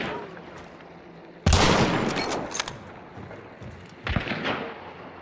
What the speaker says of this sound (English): they're definitely shooting at me